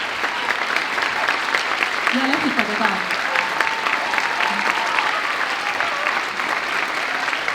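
Audience applause at a children's dance concert, dense sustained clapping from a large crowd filling the whole stretch, with a voice speaking over it briefly.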